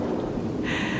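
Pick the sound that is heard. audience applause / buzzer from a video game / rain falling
rain falling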